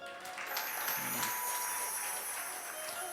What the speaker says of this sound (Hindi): इनके सोने पर ताली बजाओ